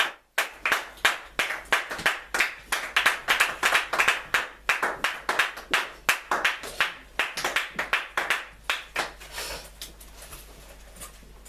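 A church congregation claps in a steady rhythmic beat, many hands together, loud and close, slowing and fading out toward the end.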